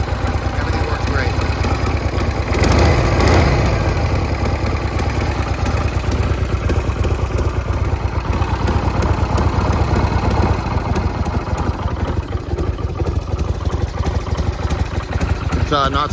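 A 1980 Harley-Davidson Sturgis motorcycle idling in freezing cold weather, a loud, steady, close-up engine rumble with an even loping pulse throughout.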